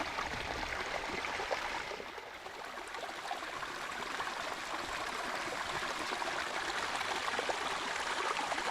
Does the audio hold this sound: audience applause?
no